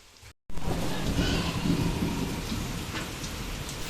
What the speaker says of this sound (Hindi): पूरी बारिश हुई है और मौसम हो गया है ठंडा